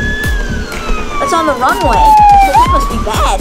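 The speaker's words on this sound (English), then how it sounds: "I think that's the ambulance." A wailing ambulance siren sweeps up and down, loud and close, as people talk excitedly over it amid low rumbling engine noise.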